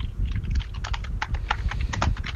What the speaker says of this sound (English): listen to this guy typing